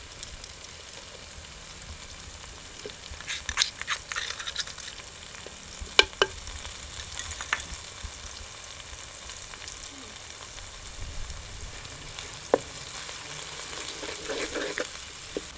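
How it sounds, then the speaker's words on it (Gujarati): Ginger, chilli and garlic fry in a pan in a home kitchen, giving a steady low sizzle with occasional stirring clicks and scrapes, fairly faint and with no voices. "મરચાં આદુ ને લસણ ને એ બધું કકડી ગયું છે"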